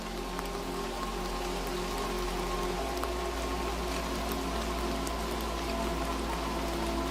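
Steady rain pouring down in an even, unbroken hiss, dense and close, with a faint low hum beneath and no voices.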